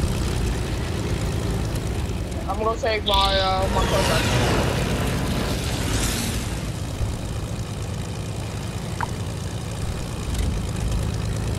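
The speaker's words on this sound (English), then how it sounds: "I'm going back to take my plane." A steady droning airplane engine hums through a battle in a multiplayer shooter video game, with a brief whooshing pass midway, while a player talks over it.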